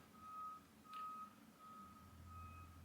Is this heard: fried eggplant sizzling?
no